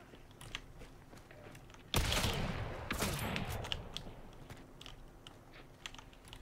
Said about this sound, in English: There's that levering shotgun.